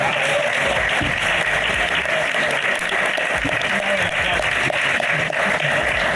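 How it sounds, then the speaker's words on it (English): A convention panel audience gives a round of applause to the creators of The Last Ronin graphic novel, a steady, dense crowd clapping that stays loud and even throughout. "give them another round of applause, please"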